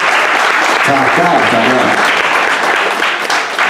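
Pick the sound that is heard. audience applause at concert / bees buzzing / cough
audience applause at concert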